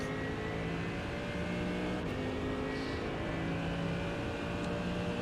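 A Mercedes GT3 race car runs flat out down a straight at Spa in iRacing, its engine a steady, loud, unbroken drone with no gear changes.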